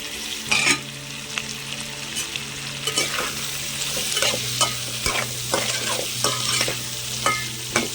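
Potato pieces sizzle in hot oil in a pan, with repeated scraping and clinking as they are stirred, the frying hiss steady throughout and no voices.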